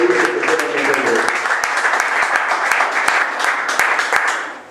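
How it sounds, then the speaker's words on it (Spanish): Steady applause from an audience at a political training gathering, a continuous wash of clapping with sharper individual claps standing out, lasting the whole stretch without pause. "le damos un fuerte aplauso y también le agradecemos"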